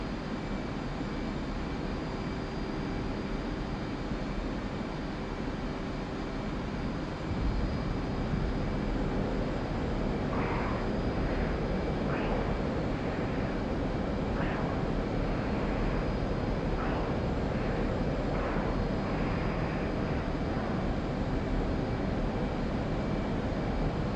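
A jet fighter's engine with afterburners drones in a flight simulator game, a continuous loud, even roar holding throughout, with faint intermittent tonal chirps layered in partway through and no speech.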